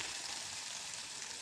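Ginger and garlic sizzle in onions already browned in a pan, a steady, fairly loud frying hiss that runs unbroken throughout with no voices.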